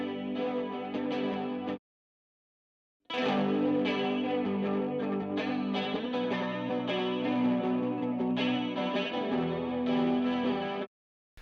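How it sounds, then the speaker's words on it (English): Electric guitar played solo, without drums, in a heavy distorted and chorused tone, strummed phrases starting, breaking off into silence for about a second, then running steadily to the end. "this is the electric guitar played by Nick, first of all on its own"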